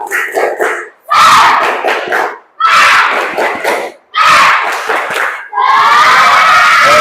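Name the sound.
pupils doing the tepuk semangat clapping chant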